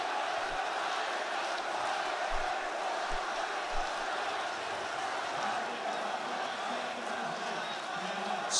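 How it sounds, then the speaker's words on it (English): Esports arena crowd at a PGL Astana Counter-Strike match cheers in a steady, distant roar of many voices, sustained throughout without a break. "You can hear every cheer."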